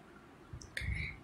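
A computer mouse clicks twice in quick succession, crisp and faint, over a low background hum during an online shopping tutorial on buying from Amazon.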